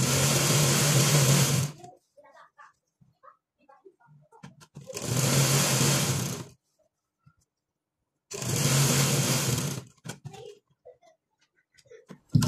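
An electric sewing machine stitches piping onto fabric in three loud, steady bursts of about two seconds each, separated by quiet pauses filled with faint handling noises.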